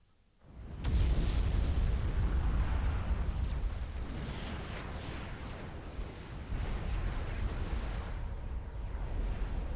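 Heavy artillery from the loyalty gun in the video game Supreme Commander 2, a deep boom that swells suddenly and then rolls on as a sustained, rumbling roar with faint crackles on top.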